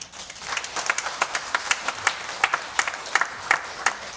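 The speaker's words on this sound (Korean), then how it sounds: "잠시 일어서 주시면 박수로 환영하겠습니다" Applause from a church congregation during a Sunday service, welcoming two students with steady, lively clapping that carries on for a few seconds without talk.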